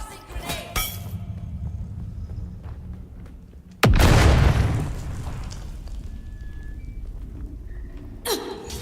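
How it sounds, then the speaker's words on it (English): A grenade explodes in the Dune video game with a single loud, sudden boom that decays over about a second, set against a steady low rumble of in-game ambience and brief clanks. "Tossing grenade!"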